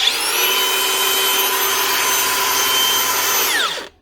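A repaired cordless Makita DGA456 angle grinder running at a steady high whine, then winding down as it is switched off.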